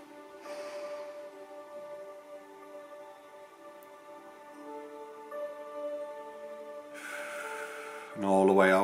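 A slow, deep inhale drawn in through the nose, soft and close, over gentle sustained background music during a relaxation breathing exercise.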